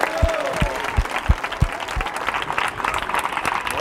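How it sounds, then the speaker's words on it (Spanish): A church congregation claps hands in rhythm during an evangelical service in Quito, Ecuador, steady close clapping beats that loosen into scattered applause and crowd noise over a few seconds. "Si va a dar palmas, son para Él."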